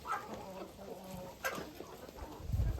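Bantam chickens in a farmyard pen cluck in a few short, moderately close bursts, with a louder rustle or thump near the end.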